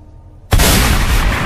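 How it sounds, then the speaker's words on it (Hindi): Sudden loud gunfire bursts in after a brief quiet moment, a dense sustained roar of shots close by. "गोली चली और गोली चलते ही एकदम मानो गोलियों की बौछार हो गई"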